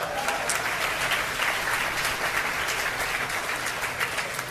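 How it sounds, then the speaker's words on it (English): Sustained applause from a large crowd at a hospital groundbreaking in Mississauga, Ontario, dense and steady clapping that continues throughout without pause. "Big applause."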